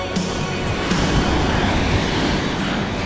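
Stormy sea waves break steadily on a beach in Yalta in December, with rain falling, forming a continuous loud, close wash of surf.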